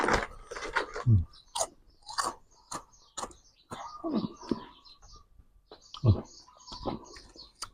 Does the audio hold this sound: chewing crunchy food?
yes